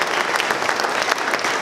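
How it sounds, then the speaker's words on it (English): Loud, close applause from a crowd at a high school graduation, a dense burst of many hands clapping steadily throughout. "please a round of applause for these wonderful students, wonderful leaders in the future"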